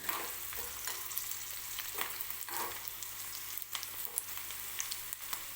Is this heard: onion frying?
yes